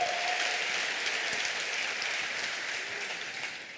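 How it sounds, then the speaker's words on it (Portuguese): Church congregation applauding during worship, a steady broad wash of clapping that carries throughout and tapers slightly at the end, with no talking over it. "Pode dar uma salva de palmas ao Senhor."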